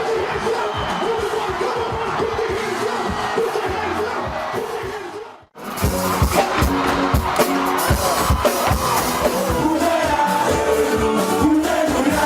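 A large concert crowd at a show during MTN African Music Nite 2012 cheers and shouts wildly in a loud, sustained roar, briefly dropping away near the middle before surging back just as loud.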